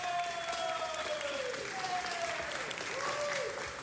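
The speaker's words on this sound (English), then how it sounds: "They all deserve a big round of applause." Round of applause at a city council meeting, steady clapping from a room of people heard moderately far off, with a voice speaking over it at the same time.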